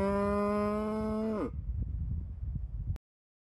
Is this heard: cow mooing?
yes